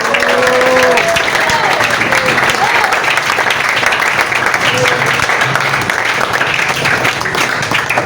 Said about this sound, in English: Clap it loud